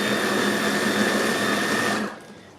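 Food processor chopping a chunky home-canning salsa, a loud steady motor whine with blades churning for about two seconds, then cutting off abruptly.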